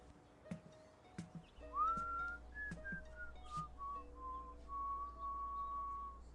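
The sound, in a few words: human whistling a tune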